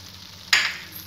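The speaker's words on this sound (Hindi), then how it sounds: "ऐसे चलाते रहना है, आधा मिनट तक इसको ऐसे ही भूनना है मसाले में टमाटर को।" Tomatoes fried in masala for shahi paneer, stirred in the pan, give a single short scrape and sizzle burst partway through, with quiet kitchen hiss before and after.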